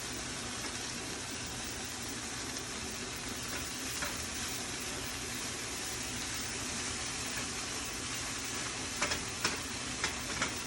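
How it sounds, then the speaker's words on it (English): Rice with vegetables sizzles steadily in a hot pan while being stirred, with a constant close frying hiss and a few sharp utensil scrapes and taps near the end. "we're just going to mix it around with the veggies"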